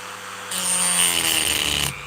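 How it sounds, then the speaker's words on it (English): A Dremel rotary tool cuts into a Milwaukee power tool battery pack to remove the cells, giving a short, loud, close high-pitched grinding whine for just over a second. "this is where I cut the cells out of a Milwaukee battery with a Dremel"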